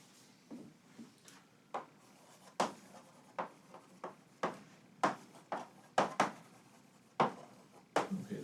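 Hand-writing of a compound interest formula, with sharp marker or chalk taps and short strokes landing in an irregular rhythm, close by and moderately loud against a quiet room.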